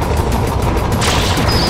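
Rockets fire from a roller coaster at a mechanical Bowser in Super Mario Sunshine: a dense, steady rush of blasts and bursts, with a sharper surge about midway and a thin high whine near the end.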